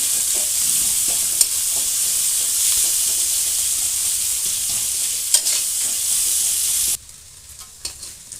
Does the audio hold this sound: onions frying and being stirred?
yes